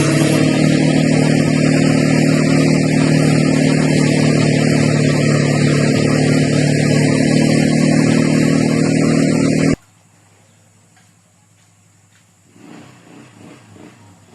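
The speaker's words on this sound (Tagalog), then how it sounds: "My children, Ackroyd, Chelsea, and Josh, are using the ATV now." A 220cc ATV all-terrain vehicle engine runs loud and steady close by at a farm, then cuts off abruptly, leaving quiet with a faint sound near the end.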